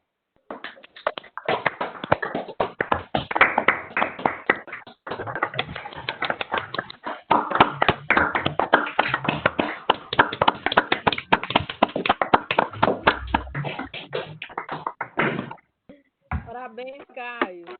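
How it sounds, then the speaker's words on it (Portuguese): Participants in an online talk give rapid, overlapping applause through open microphones, dense and clipped in tone, running for about fifteen seconds before a voice briefly speaks. "dar uma salva de palmas para o Caio"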